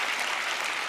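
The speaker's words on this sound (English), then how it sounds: "I think Penn's parents deserve a round of applause" A studio audience at a televised magic show bursts into a brief, dense wash of steady applause, with no speech over it.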